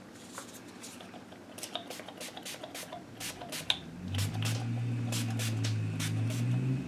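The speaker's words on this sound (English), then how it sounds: "And I'm just going to spray that on." Rapid bursts of spray from a hand pump bottle apply Shabby Shutters and Tumbled Glass ink colours onto a gel printing plate, a quick series of short hissing spritzes close by, with a low steady hum rising underneath later.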